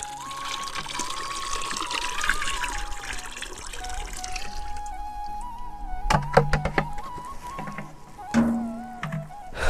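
Buttermilk trickles and pours steadily into a 200-litre barrel for several seconds, then a few hollow thunks and splashes punctuate the flow, fairly close.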